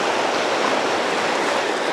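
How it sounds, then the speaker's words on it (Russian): Sea surf rolling onto the beach at Anapa during a small storm, a loud, steady broadband wash of breaking waves heard up close with no voices. "Небольшой шторм, прибой."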